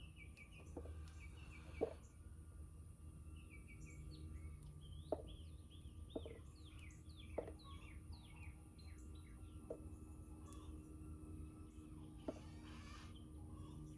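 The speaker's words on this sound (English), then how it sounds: "you're hearing the chickens. One of them laid an egg or something." Chickens cluck and call softly in the distance over steady background hum, with a few sharper squawks and bird chirps scattered throughout.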